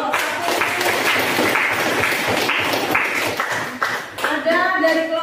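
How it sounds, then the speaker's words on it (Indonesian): Classroom applause for the first group after their statistics presentation, steady clapping from many students that fades briefly, then a voice speaks over the end. "beri aplaus untuk kelompok 1"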